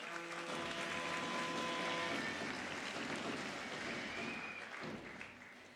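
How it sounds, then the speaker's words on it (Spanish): Sustained crowd applause at a regional award ceremony in Panama, a dense steady wash of clapping that slowly tapers toward the end, no talk. "con un fuerte aplauso"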